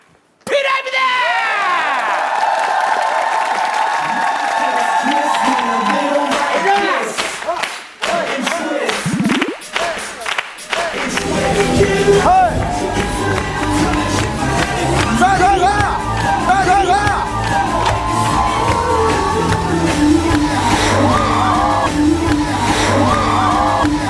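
A studio audience at the Korean talent show Star King shrieks and cheers after a stage performance, with the noise swelling and dipping before voices and further crowd noise take over.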